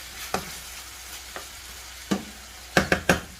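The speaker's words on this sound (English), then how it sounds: "Let those mushrooms cook a bit more." Mushrooms and chicken sizzle in a pan for a spaghetti sauce, with a soft frying hiss under several sharp spatula scrapes and knocks that bunch into a quick cluster near the end.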